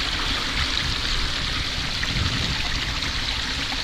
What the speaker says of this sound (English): we have some very pretty little waterfalls flowing here